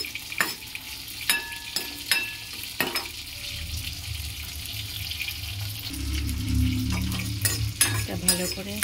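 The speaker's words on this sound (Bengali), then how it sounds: "শুকনো লঙ্কাটা একটু ভালো করে নাড়াচাড়া করব।" Dried red chillies frying in oil in a pan while being stirred, with sharp scraping knocks of the spatula over a continuous sizzle that grows louder and fuller toward the end.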